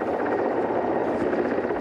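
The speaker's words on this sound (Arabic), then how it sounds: "طائرة الهليكوبتر المشاركة في عملية الإنقاذ هي تشيكية ومجرية وإسبانية وبلجيكية وفرنسية" A military rescue helicopter in a multinational operation thrums steadily and loudly, its rotor chop and engine drone continuous throughout with no voices.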